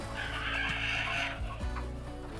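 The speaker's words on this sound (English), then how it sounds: "So right now I'm checking all our sick chickens" Chickens on a poultry farm cluck in a brief, moderately faint burst over a steady low mechanical hum.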